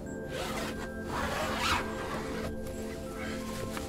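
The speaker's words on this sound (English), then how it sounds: "you can also unzip this mesh" A zipper opens the mesh screen of the roof bed in a VW T6 or Ford campervan, a close rasping pull with a couple of short bursts and faint background sound.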